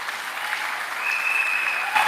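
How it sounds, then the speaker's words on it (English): An audience at a political party's evening rally applauds, a brief, steady hiss-like wash of clapping heard from a distance, with a faint whistle or tone rising over it partway through. "Give her a round of applause."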